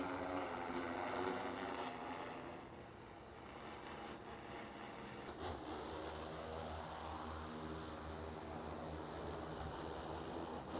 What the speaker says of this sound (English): now we're going to get up in the air and fly the second mission